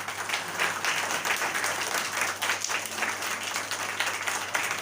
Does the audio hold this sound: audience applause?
yes